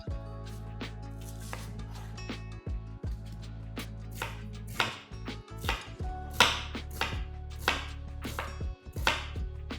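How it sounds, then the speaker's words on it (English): A knife chops onions thinly on a cutting board for Japanese home-style curry, a quick irregular run of crisp close strokes, with no voices. "Please slice the onions thinly because they will melt into the curry and add richness."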